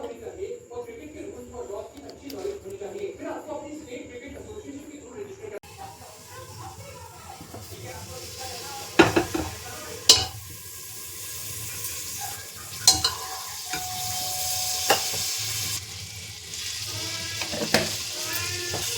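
Mustard seeds and vegetables for pav bhaji sizzling in a hot pan, with a steady frying hiss, stirring scrapes and sharp utensil clanks, while someone talks over much of it.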